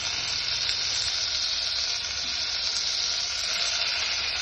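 Onion and tomato sizzle steadily in a hot pan for hesar kalu palya, a continuous close, bright frying hiss with faint stirring and no voices.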